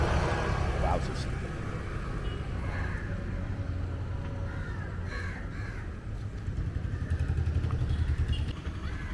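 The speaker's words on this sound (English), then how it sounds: "Lindsay's decided to have herself a little drive of the tuk-tuk." A tuk-tuk engine drones steadily and close as it drives through Kochi, India, with crows cawing nearby and voices talking over the rattle.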